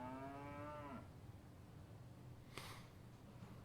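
Cattle on a cattle ranch give a loud drawn-out moo that falls away after about a second, followed by quieter rustling and a brief noisy burst against a low background.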